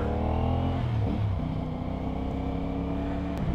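An NK450 motorcycle rumbles continuously while being ridden on a road. Its loud, low engine note stays close and steady, dipping briefly as the revs shift.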